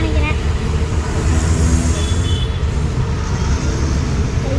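Heavy road traffic around a car stuck in a jam, a dense, steady rumble of engines and tyres that stays loud and close throughout, with faint higher noises above.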